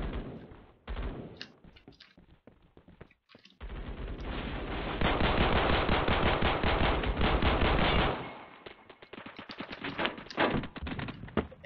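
Automatic gunfire in a Roblox Phantom Forces firefight, rapid bursts crackling close and loud, building to a dense sustained stretch of shots before falling back to scattered volleys.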